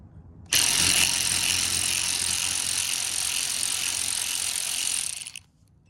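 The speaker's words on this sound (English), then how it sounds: "We're gonna try to untighten it and loosen it." WORKPRO 12V extended electric ratchet spinning off an old rusty bolt: a loud, steady buzzing whir that starts abruptly, runs for about five seconds up close and then cuts off.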